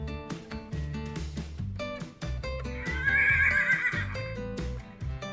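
A toy plays a horse neigh over a bouncy electronic tune, the whinny rising bright and loud in the middle, with clip-clop beats underneath.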